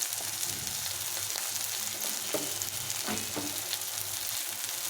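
Ground spices with salt and turmeric being fried in oil for a fish curry, giving a steady, dense sizzle that fills the whole stretch, with faint stirring scrapes now and then.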